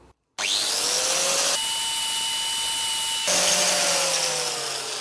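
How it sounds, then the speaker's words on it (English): An angle grinder cuts into a pin head on a seized engine from a flood-damaged BMW M135i, starting with a sudden loud whine that holds steady and shifts pitch as the disc bites into the metal, close and alone. "I've just got my grinder, and I'm just going to take my time, and I'm going to be working on that one there"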